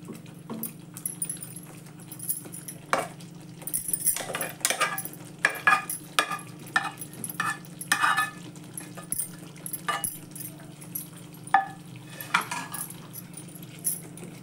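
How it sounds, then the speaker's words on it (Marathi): Paneer added to a pea gravy in a pan and stirred, giving scattered clinks and scrapes of a spoon against the metal pan, faint and intermittent over a low steady hum. "आता आपण त्यात ते पनीर घालूया."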